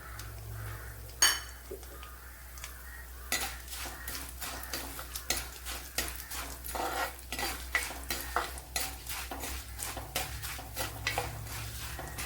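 Roasted chana dal and urad dal frying in a pan while a spoon stirs them, giving repeated close scraping and clinking strokes in a steady rhythm over a soft sizzle, with no talking.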